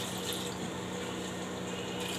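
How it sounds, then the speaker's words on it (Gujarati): Half a glass of water pours into a pot of washed cluster beans, a short, steady splashing trickle lasting about two seconds, close and fairly soft, with no talking. "અને અડધો ગ્લાસ આપણે પાણી નાખશું"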